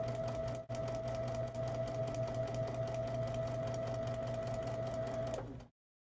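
A sewing machine stitches a quilt block in a steady, fast mechanical whir with a constant hum. One brief stutter comes near the start, and the machine stops just before the end.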